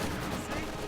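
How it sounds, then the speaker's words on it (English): A Katyusha rocket barrage fired at very short range in a video game: a dense, loud roar of blasts and rumble fills the whole moment without a break. "Katyusha barrage at very short range, has a pretty tight spread"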